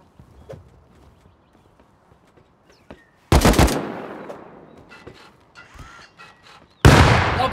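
Gunfire in the video game Rust: two loud, sharp bursts of rapid automatic shots, each trailing off into scattered pops and clatter, after a quiet stretch of faint background noise.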